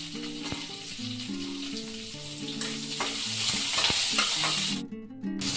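Two long-sliced onions with a pinch of salt fry in a pan for a Marathi chapati pizza, a steady sizzle with scraping stir strokes and utensil clinks, close and continuous with no talking.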